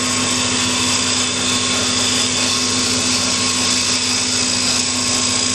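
Wood lathe spinning a bowl while a small 1/4 inch gouge finishes its outside, a loud, steady high-pitched whine and hiss with constant cutting noise, close up, unbroken, with no talk.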